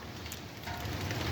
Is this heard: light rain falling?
yes